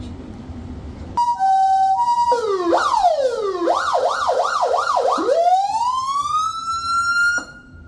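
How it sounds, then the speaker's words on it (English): A loud ambulance siren, tested during vehicle checks, runs through several modes: a steady two-tone blare, rapid rising-falling wails, then a long climbing whoop that cuts off. "So we'll test the sirens."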